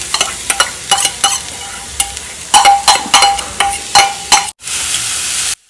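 Grated coconut and beetroot stirred in a pan, with loud, close, rhythmic scrapes of a spoon against the metal over a low sizzle, then a brief pause and a steady hiss.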